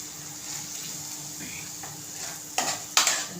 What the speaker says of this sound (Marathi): आता हे सगळं मिक्स करायचं चांगलं थोडंसं पाणी टाकून त्याला चांगलं शिजवायचं